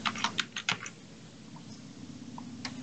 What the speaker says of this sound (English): you can type in, let's type in Moyak.